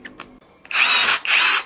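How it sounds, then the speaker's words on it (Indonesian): A Blackfoot 21V cordless impact drill fitted with an 18 mm spade bit bores into a meranti timber beam at top speed, two loud sustained whining bursts after a few faint clicks, close by. "Kita akan uji lagi menggunakan bor kipas. Ini untuk diameternya di 18 mili."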